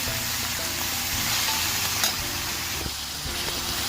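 Bottle gourd pieces cook in a pan as the water boils off, making a steady close sizzle with soft scraping and stirring knocks scattered throughout.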